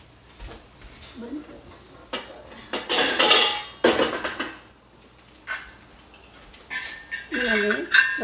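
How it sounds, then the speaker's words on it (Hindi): Metal spoon clinking against a cooking pot of beef nihari, then a lid set over it, with several bright scrapes and clattering knocks spread out, fairly close. "मैंने चम्मच निकाल के और इसको ढक के"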